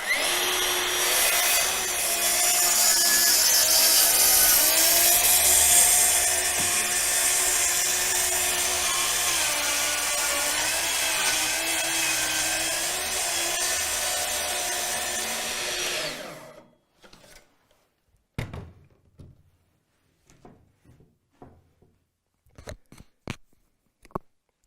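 A Festool portable circular saw whines steadily through wood for about sixteen seconds, then cuts off, followed by scattered knocks and clatters of handling.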